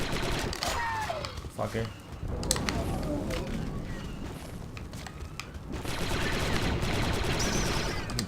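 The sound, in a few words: gunfire in Star Wars: Republic Commando video game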